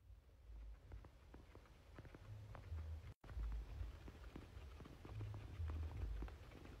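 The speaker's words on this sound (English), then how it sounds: "that's them chewing like that." Soft, rapid clicking and patter from guinea pigs chewing close by, a steady irregular crunching texture with low rumble underneath.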